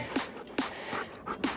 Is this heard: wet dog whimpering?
yes